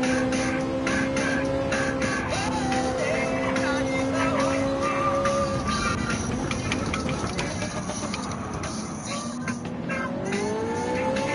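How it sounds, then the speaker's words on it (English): A Porsche Cayman race car in Gran Turismo 7 on the Grand Valley circuit roars past amid other racing engines, a loud continuous engine drone with shifting pitch and tire noise that fades slightly toward the end. "This Porsche Cayman it went whipping on through."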